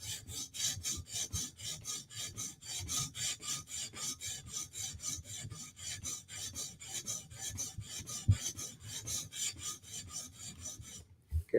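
Knife blade being sharpened on a guided sharpening system, a quick, even run of close, crisp scraping strokes, roughly three per second, ending with a couple of small clicks.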